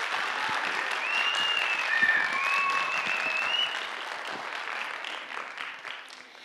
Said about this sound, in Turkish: Kuvvetli alkışlarınızla Betül Yorulmaz.